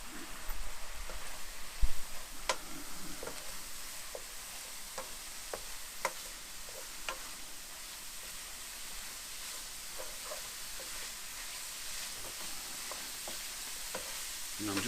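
Beef enchilada filling fries steadily in a pan, a continuous close sizzle and hiss with scattered pops and occasional stirring scrapes, louder near the start and settling to an even crackle.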